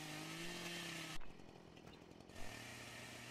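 A chainsaw in Farming Simulator 2013 with a forestry mod, steady idling drone that drops away for about a second mid-clip, then resumes, with no talk.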